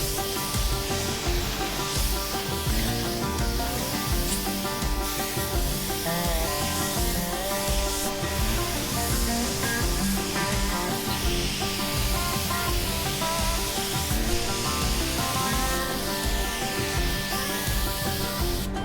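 A spray gun applies sealer to a car bumper with a constant close-up hiss and slight fluttering that lasts the whole clip and is heard on its own.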